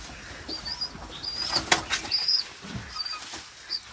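Pigeons flutter and flap their wings in brief bursts nearby while feeding on the ground, with soft pattering and faint high squeaks amid a quiet background.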